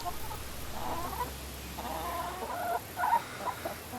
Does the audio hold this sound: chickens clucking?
yes